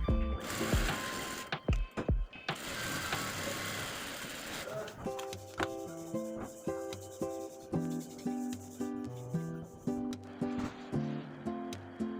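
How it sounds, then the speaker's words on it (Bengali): A sewing machine stitches the sleeve of a kameez, its steady mechanical whirring and rubbing running close and continuous for a while before fading under tuneful background music. "এখন আমি হাতাটি সেলাই করে নিচ্ছি"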